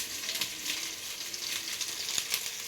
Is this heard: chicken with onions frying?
yes